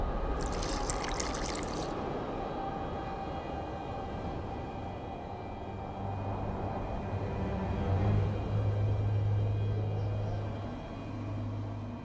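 Water poured during alchemy in the video game The Witcher 2, a faint trickling and splashing liquid sound against a quiet background hum, with a brief brighter burst near the start.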